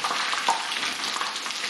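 Chicken thighs fry in hot oil with a dense, continuous sizzle and crackle, close and steady, with a faint scrape of stirring.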